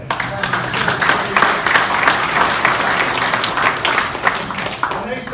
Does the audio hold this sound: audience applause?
yes